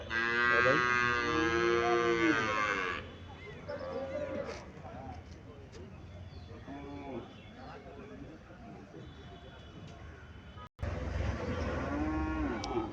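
A cow lets out a long, loud moo at a cattle market in Chauddagram, Comilla, then people talk over farm noise before another deep moo near the end.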